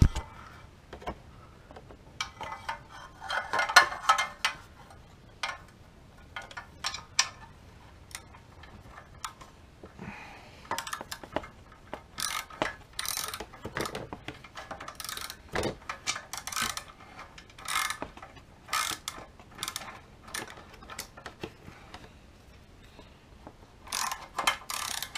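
A ratchet wrench loosens exhaust bolts on a Honda CBR650R, its pawl clicking in quick rapid bursts with short pauses between strokes, close and fairly quiet, with no talking.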